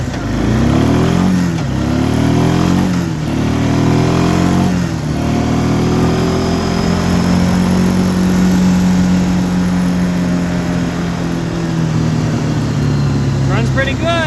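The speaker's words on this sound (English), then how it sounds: "I'm going to do a quick little test drive and see how it runs." An Arctic Cat Bearcat 454 snowmobile engine runs steadily through a test drive, a loud continuous drone with rising and falling revs, close and sustained throughout.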